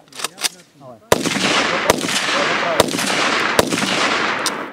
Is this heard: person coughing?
no